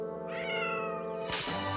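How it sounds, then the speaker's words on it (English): A cartoon cat stuck under a set of stairs meows in a drawn-out, wavering cry that rises into a loud, harsh yowl near the end, heard alone and close. "I can't rescue my cat. He's stuck under the stairs."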